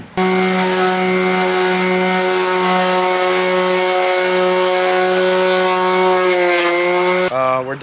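A power sander works body filler smooth on a fiberglass bodykit, a loud steady whine with a strong droning hum that holds evenly before stopping abruptly near the end.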